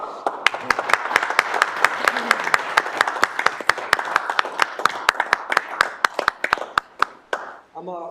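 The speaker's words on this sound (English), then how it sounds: "I think we deserve another round of applause." A city council meeting audience claps in a steady, rhythmic unison beat over a bed of general applause. The clapping is loud and close and keeps going for about seven seconds before tapering off.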